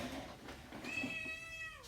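Jam, an orange cat, lets out one clear, drawn-out meow midway, close and moderately loud, with quieter room noise and faint stirrings before it.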